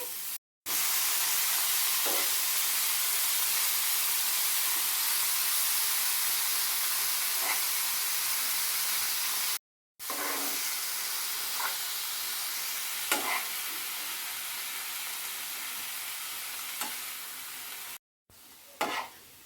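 Soy chunks sizzle and fry in a pan at a home kitchen, a steady bright hiss with occasional stirring scrapes and brief gaps, close and fairly loud.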